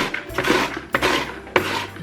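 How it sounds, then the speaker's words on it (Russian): Onion held on a food holder being pushed through a dicing grater set to cubes, three sharp cutting strokes with clacks of plastic and rasping slices, close and without talk. "Сегодня я буду резать лук при помощи своей любимой терки."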